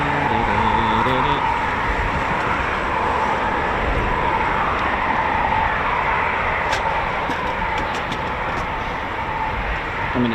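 A Eurofighter Typhoon FGR4 jet taxiing at RAF Coningsby gives a steady, broad engine roar and whine that holds loud and unbroken throughout, with a few brief clicks near the end.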